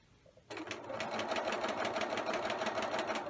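A sewing machine stitches a self-lined patch pocket, running at a steady, rapid, continuous pace close by after a short quiet start.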